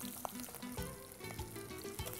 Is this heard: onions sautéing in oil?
yes